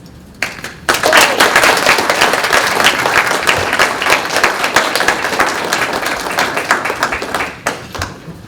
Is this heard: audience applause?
yes